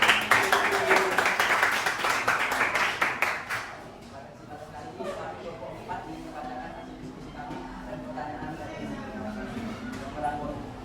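Classroom group clapping hands in a dense, rhythmic burst that fades after a few seconds, leaving quiet room murmur and faint voices behind.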